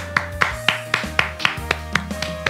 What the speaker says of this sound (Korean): 우리 하나님께 감사의 박수 올리겠습니다.